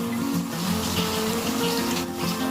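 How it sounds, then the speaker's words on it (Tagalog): Water boils in a pot with a steady, dense bubbling and hissing that stays close and even throughout. "kumukulo na po yung ating tubig"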